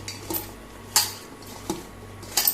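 Potato and tomato slices being mixed with rava in a bowl, with a few sharp metallic clinks and clatters of utensil against dish spaced irregularly over faint background noise.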